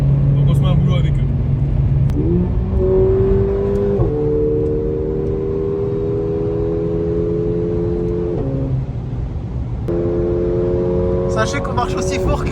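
A Mercedes A45 AMG heard from inside accelerates hard, its engine note climbing steadily through the gears with brief dips at each shift, loud and close, racing a Porsche and a Maserati; someone talks over it at times.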